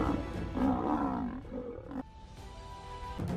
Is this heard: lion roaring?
yes